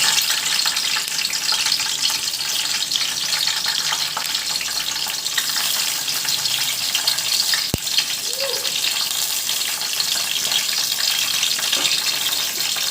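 Green chillies fry in hot oil in a pan with a continuous, loud, hissing sizzle that holds steady throughout.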